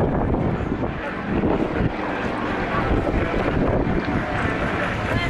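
A propeller aerobatic airplane performs rolls at an outdoor air show in Rome, its engine a steady, loud drone buffeted by wind noise, with a spectator voice faintly present.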